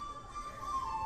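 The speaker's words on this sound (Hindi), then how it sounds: "और ये जो बांसुरी की आवाज़ है बहुत ही ज़्यादा सूदिंग थी" A soft, breathy bamboo flute holds a steady tone over a quiet ambient background in a temple in South India.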